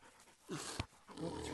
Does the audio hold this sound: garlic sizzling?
no